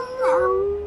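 A single drawn-out howl rises and then trails off during a cutscene in the video game Castlevania: Symphony of the Night, clear and close, lasting under a second, with no talk.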